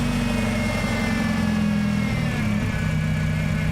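A Honda engine runs loud and close with a steady droning hum, its pitch shifting slightly as the throttle plate is moved by hand.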